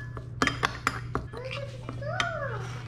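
Ingredients seasoned with fish sauce and pepper are mixed in a bowl, with a few crisp clinks of a utensil against the dish early on. Someone talks over the mixing.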